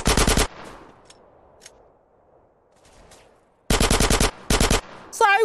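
Uzi submachine gun firing in GTA San Andreas: a rapid automatic burst, a long pause with faint ambience, then two more loud bursts close together, ending in a brief electronic tone.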